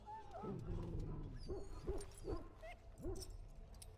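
A dog in the video game Dragon Age: Origins lets out a string of rising and falling whining, hooting cries, about four or five in a row, fairly close and clear.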